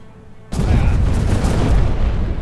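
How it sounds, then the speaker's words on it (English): Ship cannons fire in the VR pirate game Buccaneers: a sudden loud boom bursts in after a quiet half second, then a dense roaring rumble of blasts that sustains to the end, close and without talk. "The game's telling me to fire my cannons."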